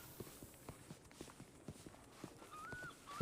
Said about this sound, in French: Attention le cheval, hein, passez pas derrière.